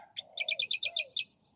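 Tikling, a rail bird, calling in the wild with a quick series of about seven sharp, high chirps over a lower whistled tone, fairly near and clear with no talk.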